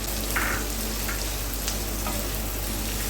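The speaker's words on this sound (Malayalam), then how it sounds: "ഇനി ഇതിലേക്ക് നീളത്തിൽ കട്ട് ചെയ്ത് വെച്ചിരിക്കുന്ന ഒരു സവാള ചേർത്ത് കൊടുക്കാം." Sliced onion fries in a pan with a constant close sizzle and a few light scrapes of stirring, with no voices.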